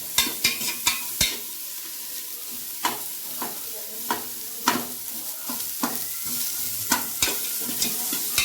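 Onions fry in a pan until golden, a soft sizzle under repeated sharp scrapes and knocks of a spoon stirring at an uneven rhythm, close and without speech.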